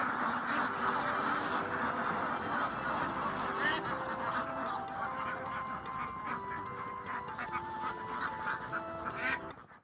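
A flock of about 620 laying ducks quack and honk together in a noisy, continuous chorus, heard close up with no voices.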